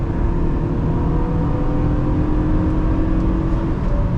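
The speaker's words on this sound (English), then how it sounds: "Now this engine is really healthy." A 2009 Toyota Camry XLE V6 engine pulls hard under heavy acceleration, a steady loud drone and whir heard from inside the car, with no speech.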